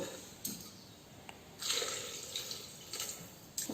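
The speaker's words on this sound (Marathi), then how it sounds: "आता या भाजी बरोबर पाणी ठेवायचं." Water is poured into a pan of brinjal, potato and tomato curry in a home kitchen, heard as faint intermittent splashes and drips, close but quiet, with no talking.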